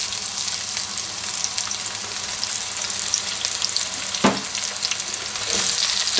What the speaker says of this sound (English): just brown the onion off for a couple of minutes